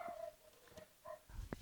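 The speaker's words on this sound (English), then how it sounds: "Ignore the barking dog over here." A dog gives a few short, faint barks and yips from across a home workshop, one brief call after another in an otherwise quiet room.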